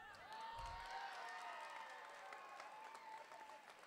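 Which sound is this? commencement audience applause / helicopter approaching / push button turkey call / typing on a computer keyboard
commencement audience applause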